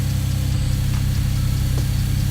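A Lexus SC300 engine idles steadily after its first start, a continuous low mechanical hum with a slight rhythmic pulse, close and alone.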